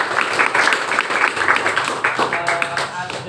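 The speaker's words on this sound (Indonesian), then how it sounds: "Beri tepuk tangan." A class applauds together, a dense patter of many hands clapping steadily for a few seconds, with some voices mixed in.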